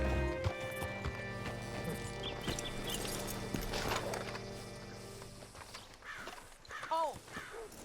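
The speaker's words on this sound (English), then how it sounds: "Hitch your horse up here." Horse hooves clip-clopping in the video game Red Dead Redemption 2, a steady walking rhythm of hoofbeats over ambient game sound, fading near the end as a horse snorts and whinnies close by.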